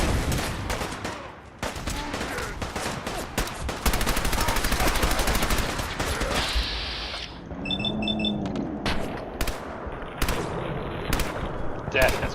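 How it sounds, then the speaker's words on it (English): Submachine gun fire in Fallout 4, with loud rapid bursts and single shots over constant game noise and music, plus a few ringing metallic tones in the middle. "Submachine gun it is."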